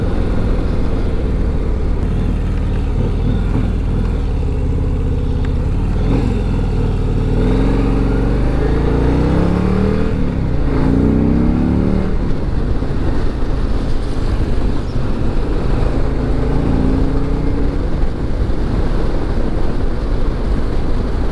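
A 2023 Harley-Davidson CVO V-twin motorcycle engine runs loud and close, with a low rumble and several rising revs that swell and ease back over the span.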